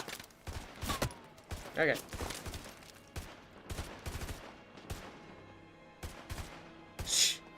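Rapid gunfire in Modern Warfare 2 Remastered: a steady run of sharp, close shots and short bursts with a few louder cracks, while someone speaks briefly over the shooting.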